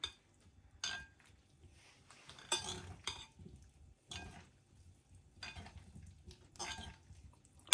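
A potato salad being stirred in a salad bowl, with mayonnaise, eggs, potato chunks, pickles, parsley, tomatoes and ham: quiet, intermittent scraping and clinking strokes of a utensil, close up, with no talking.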